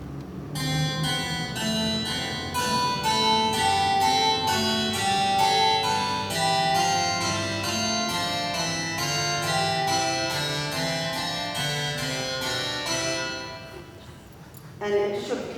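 Pipe organ plays a North German–style variation with a canon in parallel sevenths, a steady stream of sustained chords and moving lines in even rhythm, fairly full and reverberant, ending with a brief pause and a final attack.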